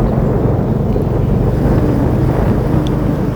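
Wind rushes hard over the microphone on a motorbike ridden fast with a passenger on the back, a loud, steady low buffeting roar filling the whole stretch with no talk.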